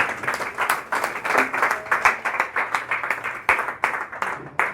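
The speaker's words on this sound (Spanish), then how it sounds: "Denle un aplauso al Señor" A church congregation gives sustained applause to the Lord after a sermon on marriage, with bursts of clapping rising and falling in waves and moderately close, with a faint voice now and then underneath.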